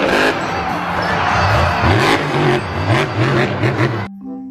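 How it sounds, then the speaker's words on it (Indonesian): A toy monster truck plays a recorded engine sound with rhythmic revving pulses and crowd-like noise, loud and continuous for about four seconds, ending abruptly. "Mobil truk monster."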